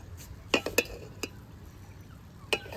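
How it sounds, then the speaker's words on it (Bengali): A spatula stirs egg pulao in a pan, giving a few light, separate clinks and scrapes against the metal over a quiet background, with no talking. "এখন খুন্তির সাহায্যে সুন্দর করে মিশিয়ে নেব।"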